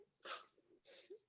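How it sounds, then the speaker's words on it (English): A single person's sneeze, close and fairly quiet, with a sharp sharp burst followed by a second breathy exhale, set in a casual podcast conversation. "I sneezed and all my thoughts came out with it"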